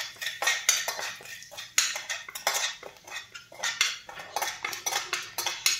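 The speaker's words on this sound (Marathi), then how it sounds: "मसाला छान आपल्याला परतून घ्यायचा आहे।" Dabeli spice masala being sautéed in a pan, with repeated metal spoon scrapes and clinks against the pan in an uneven stirring rhythm, close and clear with no talk.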